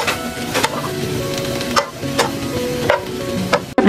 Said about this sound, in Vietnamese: em sẽ lấy nghệ và ngải với lại sả, em sẽ bỏ vô đây để em xào